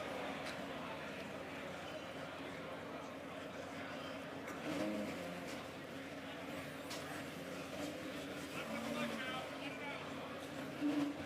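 Low engine hum and road noise of a 2005 Porsche Carrera GT rolling in at a Scottsdale car auction, faint and steady under people talking.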